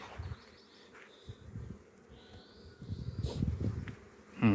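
Honeybees buzz around painted beehives in a spring apiary, a close, continuous hum with individual bees droning past the microphone, rising and falling as they fly by.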